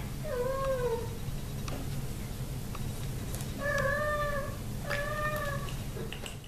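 A domestic cat meows three times, each a drawn-out, clear cry, with long pauses between them over a steady low background hum.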